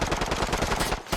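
Rapid automatic gunfire from Call of Duty: Modern Warfare in a 2v2 match, a dense, loud string of close shots that rattles on continuously before a brief gap and one more burst.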